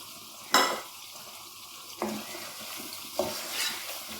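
Chicken karahi with lemon juice stirred in a pan over a low flame: a soft steady sizzle with three sharp clinks of a spoon against the pan.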